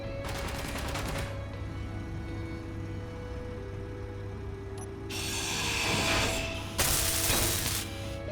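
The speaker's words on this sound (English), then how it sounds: "Where are those shots coming from?" Gunshots in the video game Quest For Peas: quick bursts of rapid, crackling shots, one near the start and two louder ones later, over a steady low game hum with no talk.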